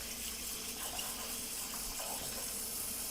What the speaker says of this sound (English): So I'm just popping these in the sink with some water.